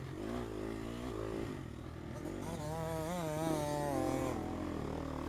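A Gas Gas EX250F four-stroke dirt bike revs and surges while riding over sand and jumps, its engine note rising and falling continuously and loud throughout, with no speech.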